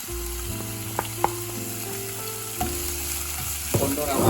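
Onions frying in a pan for Jaffna mutton curry give a steady, close sizzle with a few light stirring knocks and scrapes throughout, no voices.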